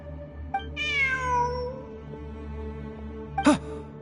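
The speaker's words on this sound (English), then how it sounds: "Look! A cat!" A cat in a video game gives a clear drawn-out meow, followed by a short sharp second cry a few seconds later, alone over a faint background hum.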